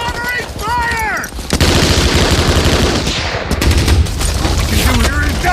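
World War II small arms fire in movie battle scenes, with loud, dense machine gun bursts and rapid rifle shots. Shouting voices come and go between the volleys.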